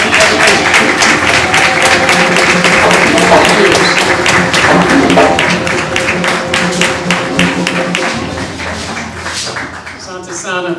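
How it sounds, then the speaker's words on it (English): An audience at a Kwanzaa Imani Night community program claps loudly and steadily for about ten seconds, dense rhythmic hand claps filling the room before thinning out at the end. "let's give them a big round of applause for all the hard work and dedication."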